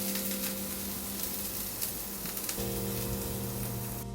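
Sliced ginger sizzles in a hot saucepan with a steady, close crackle and hiss. Faint clicks from stirring sit on top of a constant low hum.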